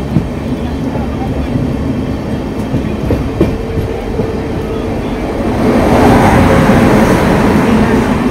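A Saptagiri Express LHB train running at speed and crossing the Navajeevan Express, a steady loud rumble with rail clatter that swells as the passing train draws alongside near the end.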